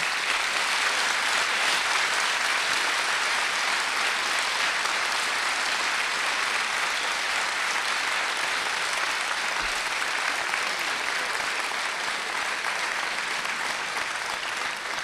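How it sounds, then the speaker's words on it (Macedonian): Sustained applause from a large audience at a Macedonian stand-up comedy show, steady and dense throughout with no voices standing out. "ја живеам за овој ваш аплауз"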